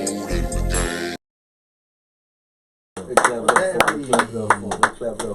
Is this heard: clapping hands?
yes